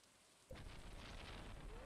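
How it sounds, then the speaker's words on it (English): Steady rain in the farming game Stardew Valley starts abruptly and continues as a dense, even hiss with low rumbling, loud and close, with no talking. "Oh, crap, it's raining and he didn't bring an umbrella."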